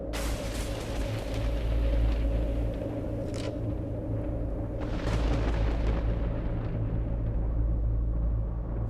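Thunder from an approaching storm rolls as a deep, continuous low rumble with swelling peaks, heavy and sustained for several seconds, with no voices over it.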